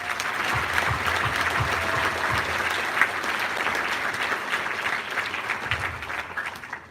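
A high school academic achievement awards audience gives the students a steady round of applause, dense and sustained for several seconds with a few sharper individual claps near the start.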